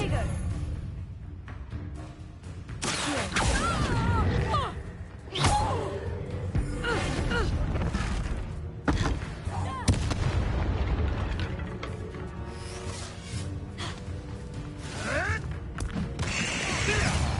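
Bombarda blasting-spell explosions in the Hogwarts Legacy video game, loud booming bursts repeating over a dense bed of game music and effects, with a voice talking over parts of it.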